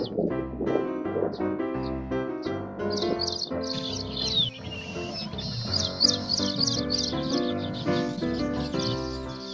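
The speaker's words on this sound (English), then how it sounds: "Now I will call my pair with my wings flapping and singing from the tree branch to choose my nest." Baya weaver bird calling and singing from a tree branch, a busy stream of bright chirps and tweets mixed with music or other tonal sounds, fairly close and continuous.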